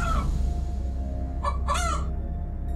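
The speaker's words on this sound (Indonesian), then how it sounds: "Suara ayam." Over a steady low hum, a chicken lets out a few short, strained calls, mid-distance and fairly faint.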